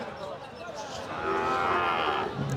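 A cow at a cattle market in Cumilla lets out one drawn-out, nearby moo midway through, over a noisy crowd background.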